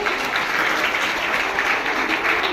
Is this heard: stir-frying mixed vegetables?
no